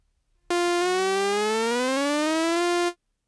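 A psytrance atmosphere synth pad with no delay or reverb, a dry, bright harmonic-rich tone that slowly glides upward over about two and a half seconds, then stops abruptly into silence.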